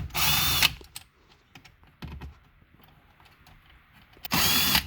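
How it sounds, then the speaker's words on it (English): A power drill spins a number 7 socket to back out the four bolts holding a U-Connect 8.4 inch screen in a Ram, Chrysler, Dodge or Jeep dashboard, with two loud whirring bursts at the start and end and a quieter clatter between. "So now we're gonna remove those 4 bolts with number 7 socket"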